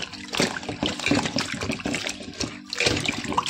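Leafy greens being washed in water in a home kitchen, with steady splashing and trickling that runs nearly throughout, dipping briefly before resuming, close and moderately loud.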